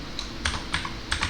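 Keys clacking on a computer keyboard while a command is entered for crypto mining rigs, a few quick close taps in short bursts over a low steady hum.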